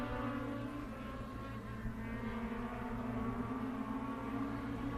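Race cars pulling a pack down the back straightaway at The Bullring at Las Vegas, a steady layered engine drone held at constant loudness from a distance, with no voices.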